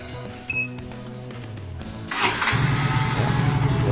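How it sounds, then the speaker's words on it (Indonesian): An automatic scooter's small engine cranks over after some clicking, catches, and settles into a steady, close putter of idling. "dan kita hidupkan mesinnya"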